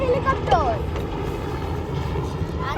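A helicopter flies overhead near an airport-side kayaking spot in Uttara Diabari, Dhaka, giving a steady low engine drone under people talking throughout.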